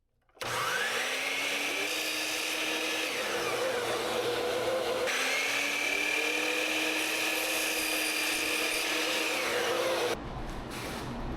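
A power saw cuts Home Depot wood trim, its whine rising sharply as it spins up, holding a loud, steady cut for several seconds with a brief dip in the middle, then dropping off as the blade stops.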